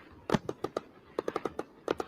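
Fourth of July fireworks booming outdoors at night: a string of sharp, distant pops and thumps comes in quick irregular clusters, some closely spaced, others after short pauses.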